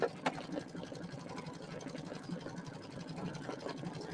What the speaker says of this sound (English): Now I do have my machine turned up pretty quick so that it will run fast.